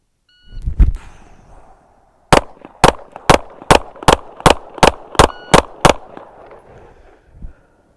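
A handgun drawn from concealment fires ten rounds at a ten-yard target: a close, very loud rapid string of evenly spaced sharp shots after an earlier bang and beeping timer.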